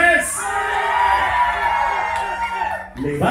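Crowd at a 2021 dance contest cheers and whoops for a dancer, a loud sustained roar of shouting voices from a nearby audience that drops briefly near the end and then swells again.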